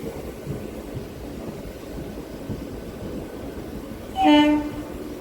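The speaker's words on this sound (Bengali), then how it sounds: "আটটা পাঁচের আমতা হাওড়া লোকাল ছেড়ে দিল" Amta–Howrah local train pulling out, a steady low rumble of wheels on rail with a brief loud horn blast near the end.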